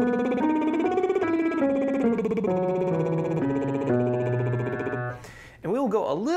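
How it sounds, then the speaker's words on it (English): A soprano doing a lip-trill singing warm-up, buzzing her lips in a steady pitched flutter that steps through a scale pattern, heard up close, then breaking off into a short gliding vocal slide. "first with the lip trill, sounds like this."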